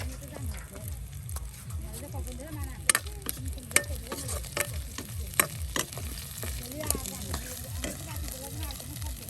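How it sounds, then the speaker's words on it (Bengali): Dried chada shutki fish with chillies sizzles steadily in a pan while being stirred, with repeated scraping strokes in a regular rhythm and a person talking over the frying. "সমস্ত শুটকি কিন্তু একসাথে এভাবেই কিন্তু ভেজে ভেজে নেওয়া হবে"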